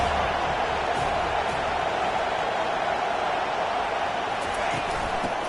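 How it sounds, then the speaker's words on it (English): A packed college football stadium crowd roars on third down at a Big 12 game involving the Buffaloes, a dense, steady wall of cheering and noise that stays loud throughout. "this crowd is tearing the lid off this place."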